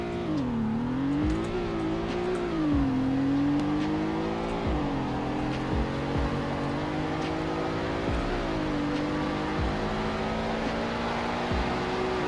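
A car in Roblox Greenville, a slow six-speed model, accelerates hard from a standing start, its engine note climbing and dropping through a run of gear changes, steady and close with no talk.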